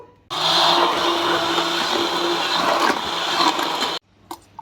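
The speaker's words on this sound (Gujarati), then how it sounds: "અને હવે આપણે આમાં ઇલેક્ટ્રિક બ્લેન્ડરથી આપણે આમાં ફેરવશું।" An electric blender whirs through a chocolate lassi with cold water added. One loud, steady motor run lasts about four seconds, then cuts off sharply, followed by a couple of faint knocks.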